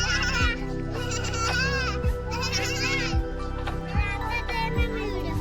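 A voice imitates a goat, with repeated wavering bleats over a steady droning background, children's chatter faintly mixed in.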